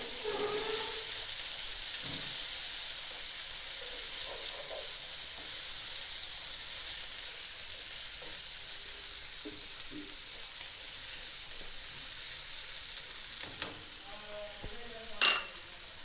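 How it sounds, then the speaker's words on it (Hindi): Tomato, ginger and garlic fry in a pan for aloo baingan, giving a steady, close sizzle with occasional stirring scrapes and a sharp clink of utensil against the pan near the end. "पहले टमाटर, अदरक लहसुन, इनको ज़रा फ्राई करें।"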